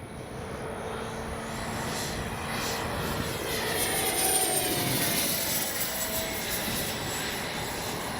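A Freewing 70mm F9F-5 Panther RC electric ducted-fan jet flies past, its steady whooshing roar hanging at a constant level in the open air and swelling slightly toward the middle as it passes nearer.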